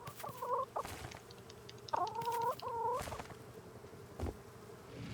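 Chickens in the video game Rust cluck in short bursts several times, close by over a steady low background hum, with no speech.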